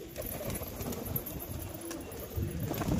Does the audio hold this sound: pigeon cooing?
yes